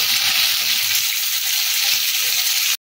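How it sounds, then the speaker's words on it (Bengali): Pieces of gathi kochu (taro) fry in hot mustard oil in a wok, giving a loud, steady, close sizzle that runs without a break and then stops abruptly. "আগে গাঠি কচুগুলোকে লাল লাল করে ভেজে নেব"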